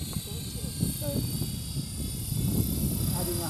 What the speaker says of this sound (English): Coming to the hover, going to the next head speed.